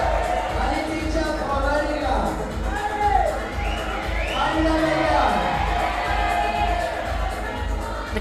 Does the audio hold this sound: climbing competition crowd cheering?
yes